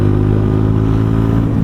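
A Mutt motorcycle engine drones close and loud with a steady, throbbing rumble, held hard at high revs throughout the short burst.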